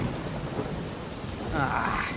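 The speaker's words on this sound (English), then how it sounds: "Uh-oh! Lightning storm!" Thunderstorm with steady rain in the video game Genshin Impact, a continuous dense wash of rainfall with low rumbling thunder swelling louder toward the end.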